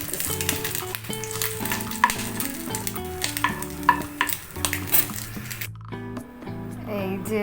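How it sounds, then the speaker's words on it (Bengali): An egg fries in spattering oil with dried chilies. A continuous sizzle and crackle sits under prominent background music throughout. "তেল ছিটতেছি।"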